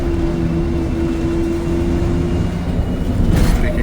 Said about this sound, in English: If you listen to that engine, you could tell it sounds a lot different than the more modern Nova buses.